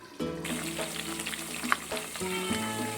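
Pepper chicken gravy sautéing in a pan, a steady close crackling sizzle with a faint underlying hum, interrupted by one sharp click, and no speech.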